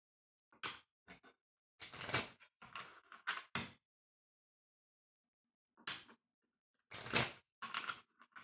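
A deck of cards is shuffled up close for a spiritual card reading, in short crisp riffling bursts separated by a few seconds of quiet.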